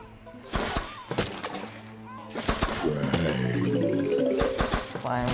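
Cannon shots in Plants vs Zombies 2 sound as sharp, loud booms and thuds, several scattered across a busy mix of game effects and music.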